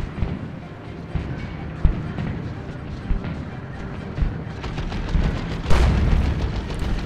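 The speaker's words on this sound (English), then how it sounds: "And just one shot from that Looted Tank." Looted Tank cannon firing in Dawn of War II: Retribution multiplayer battle, sharp booming blasts amid rumbling explosions and battle din, with a big louder impact near the end.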